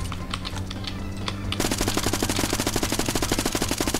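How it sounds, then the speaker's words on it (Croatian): Gunfire from PUBG Mobile: a few separate shots, then a sustained rapid automatic burst, loud and even in rhythm, over game ambience. "još sam bez veze hipfire pucao"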